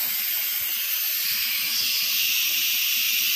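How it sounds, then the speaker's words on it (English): An Instant Pot pressure cooker holding spicy goose jambalaya vents steam during a manual pressure release, giving a loud, steady, close hiss that runs unbroken throughout with no talking. "So now I'm gonna actually let the pressure out manually."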